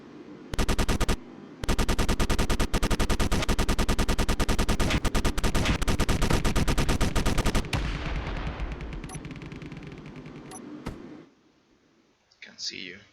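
50 millimeter ship guns in Space Engineers fire in a rapid, loud, sustained stream of sharp shots, break briefly, resume for several seconds, then give way to a fading rumble and a faint voice.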